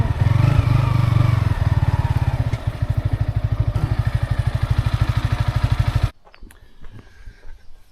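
A motorcycle engine runs loud and close on a street in the Philippines, putting out a rapid, throbbing idle that chugs on for several seconds before cutting off abruptly, leaving faint background noise.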